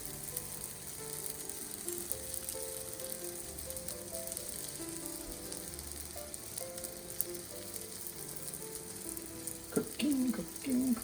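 Homemade naan frying in a hot skillet gives a steady, soft sizzle throughout, with a few faint clinks of the pan near the end.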